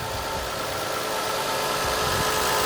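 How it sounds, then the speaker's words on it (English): A stock Toyota Aristo 2JZ engine idles steadily and smoothly, a close, constant hum with no talking. "Nice and quiet, no strange noises. Everything that you would want from a stock motor to sound like."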